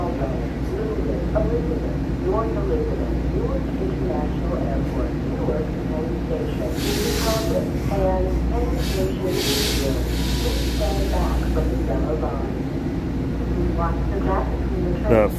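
An Amtrak train passes Princeton Junction station with a steady low rumble and rolling rail clatter throughout, plus hissing bursts midway; people talk over it.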